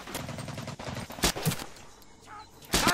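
Gunshots in the video game Medal of Honor: a few sharp, loud reports, one early and one at the very end, with quieter game ambience between them.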